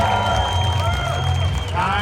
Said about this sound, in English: Actually, give yourselves a cheer.